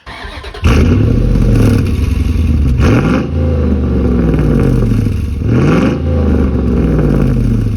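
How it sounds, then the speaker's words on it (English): A loud, throaty exhaust from a 2004 Dodge Ram 1500 pickup with a hollowed-out muffler rumbles steadily after starting up, rising in two revs that swell and fall back to a deep, burbling idle. "the muffler back here while it's hollowed out, and I do like the sound of it"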